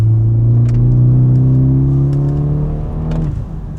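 A modern BMW car's engine hums loud and close as it corners, a steady drone that holds its pitch, then dips and eases off toward the end.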